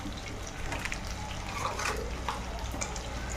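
Chicken being stirred with masala in a pot, a continuous wet, sizzling scrape and shuffle, soft and close, with no talking.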